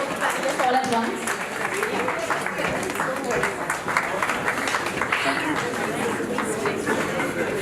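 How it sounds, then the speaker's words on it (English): An audience at a Mercedes-Benz She's Mercedes panel discussion applauds the panelists, a sustained round of many hands clapping at fairly loud volume, with crowd chatter and voices mixed in. "please give a little applause to panelists all at once"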